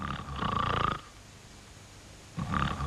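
Two loud, rasping snores separated by a quiet pause, close and exaggerated, as if a voice is imitating heavy snoring.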